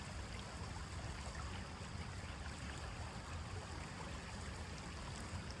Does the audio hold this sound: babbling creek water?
yes